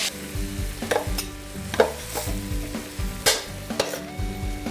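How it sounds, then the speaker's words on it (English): Garlic sautés in about two tablespoons of oil in a skillet, sizzling steadily up close while a utensil stirs and scrapes in irregular strokes. "And then I'll saute the garlic."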